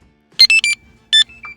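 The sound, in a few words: battery charger beeping on start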